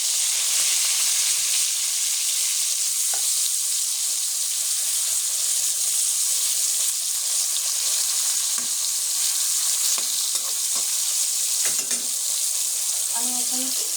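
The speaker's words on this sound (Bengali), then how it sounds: "আমি পটলটাকে ভালোভাবে উল্টিয়ে দিচ্ছি, যাতে ভালোভাবে ভাজা হয়" Pointed gourd (potol) frying in a pan, a loud, steady, close-up sizzle of hot oil with occasional scrapes as pieces are turned, continuous throughout without speech.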